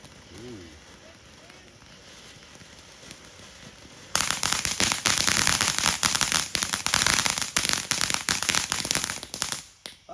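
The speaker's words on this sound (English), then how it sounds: "The firecracker." After a few seconds of quiet background voices, a long string of firecrackers bursts into rapid, loud crackling pops that continue for several seconds.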